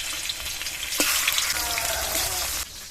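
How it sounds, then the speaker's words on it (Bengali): Fish rubbed with salt and turmeric frying in hot mustard oil in a wok, a loud, close, continuous sizzle that swells as the fish goes in and stays steady, with faint clatter underneath. "গরম তেলে মাছ দিয়ে দেবো।"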